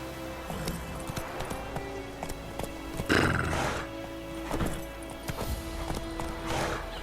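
Roach, Geralt's horse in the game The Witcher 3, trots with steady clip-clop hoofbeats and lets out a clear whinny midway, close and prominent over faint ambient music.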